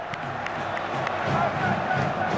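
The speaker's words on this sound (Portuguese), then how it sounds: "A torcida canta que o campeão voltou" Football supporters in a Brazilian stadium, at a Vasco match against Aurora in the Copa Sudamericana, roar and chant as a dense crowd, a steady wash of massed voices with scattered shouts and claps throughout.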